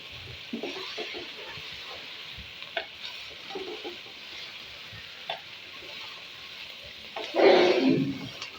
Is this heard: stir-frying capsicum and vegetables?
yes